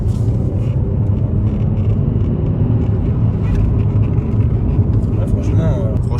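A 2009 Mercedes CLS 350 CGI with a 3.0 V6 rumbles low and steady while driving, a muffled cabin drone under voices.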